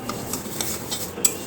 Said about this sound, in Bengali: একটু ভালো করে ভেজে নিই।